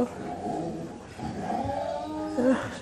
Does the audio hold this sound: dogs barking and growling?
yes